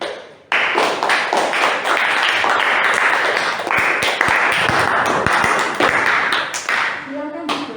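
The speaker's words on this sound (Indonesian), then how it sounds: "sebelumnya tepuk tangan dulu" A classroom applauds after a group finishes its presentation in an Islamic jurisprudence teaching session: loud, dense clapping starts abruptly and holds steady, then tapers near the end as a voice begins speaking.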